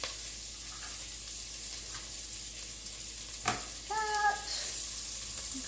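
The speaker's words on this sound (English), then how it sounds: "to that we are going to add 3 green onions that have been chopped" Three chopped green onions hit melted butter in a saucepan, giving a steady soft sizzle with a brief clatter and stir as they go in.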